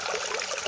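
Water trickling steadily over a small waterfall threaded with plant roots, a continuous bright splashing wash without pause, fairly close and alone.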